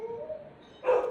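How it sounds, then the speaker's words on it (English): Dogs barking in a burst at the end, loud and close, after a quiet stretch with faint tonal whining. "Excuse my dogs."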